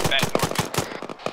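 Rapid automatic gunfire in the ArmA 3 military shooter during a building-clearing exercise, a dense rattling burst of repeated shots that runs the whole moment, loud and close.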